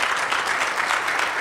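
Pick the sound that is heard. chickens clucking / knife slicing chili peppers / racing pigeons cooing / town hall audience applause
town hall audience applause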